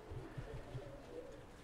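Pigeons or doves cooing in low repeated pulses, several soft coos close together at a steady rhythm against a constant murmuring background, no speech.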